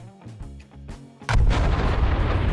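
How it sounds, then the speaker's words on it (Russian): A bomb from a bomb mod in Garry's Mod goes off with a sudden muffled, heavy boom partway through, followed by a loud rumbling tail after quieter game sounds. "Такой глухой взрыв."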